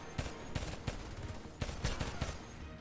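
Gunfire from the shooter Homefront on PC, irregular bursts of sharp shots spaced across the moment, with a rapid cluster near the end, fairly quiet overall with no voices.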